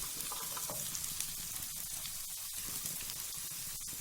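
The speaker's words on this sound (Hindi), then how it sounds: "अब जो कैरेट्स हैं हम इसमें ऐड कर देंगे और इनको तकरीबन 1 मिनट तक हम इसमें फ्राई करेंगे।" Carrots sizzle and fry in hot oil in a pan for chicken tikka macaroni, a dense, steady crackling hiss with scattered light pops throughout, no voices.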